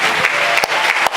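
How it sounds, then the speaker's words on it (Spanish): Congregation in a church applauding together, a dense, steady wash of clapping heard up close with a few sharp individual claps standing out, lasting a short moment. "Todos vamos a aplaudir."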